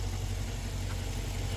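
A Dodge Charger R/T engine idles in a steady, low rumble with an even hum, close and alone, without voices.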